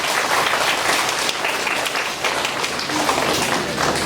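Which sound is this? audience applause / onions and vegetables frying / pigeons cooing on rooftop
audience applause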